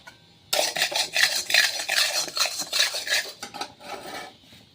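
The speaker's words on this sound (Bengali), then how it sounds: "বাসনগুলো ধুয়ে নিই।" Dishes being scrubbed and washed after cooking, including a wok with burnt-on greens stuck to it, give a steady run of close scraping and clattering metal sounds for about four seconds, starting abruptly after a quiet moment.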